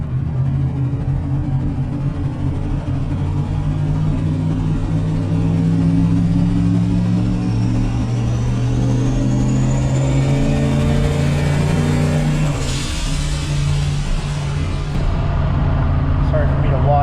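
A turbocharged Ford Foxbody Mustang pulls hard in second gear, its loud, close engine drone climbing steadily in pitch as boost builds, with a hissy whoosh near the end.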